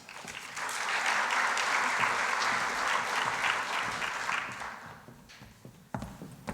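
Guests at an honorary gala welcome the evening's host to the stage with a sustained round of applause that swells quickly, holds strong, then fades out toward the end.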